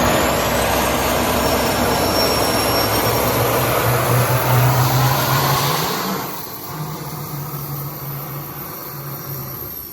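A civilian-owned fighter jet engine being started with a 1,000-amp start unit roars loud and steady as a low hum rises in pitch, then drops off partway through as the start attempt falters, leaving a quieter whine.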